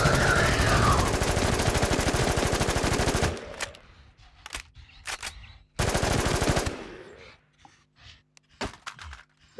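Rapid automatic gunfire from zombie shooting in the game Infestation, a loud sustained burst followed by scattered single shots and a second short burst, with no talk.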